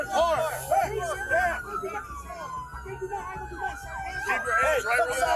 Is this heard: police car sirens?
yes